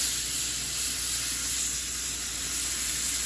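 Roast beef sears in a hot pan after a flip, giving a steady, close, even sizzle and crackle that holds at one level throughout with no voices.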